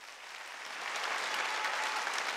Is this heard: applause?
yes